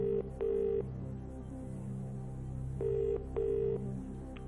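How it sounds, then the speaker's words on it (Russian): Telephone ringback tone on a game-show phone-a-friend call: three pairs of steady electronic ring bursts repeating at an even pace, clear and alone over a low background hum. "Итак, звоним Джону"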